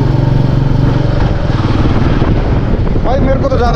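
A Royal Enfield motorcycle rides in third gear at low speed, its engine thumping steadily with strong wind rush over the microphone, loud and close, with a voice briefly audible.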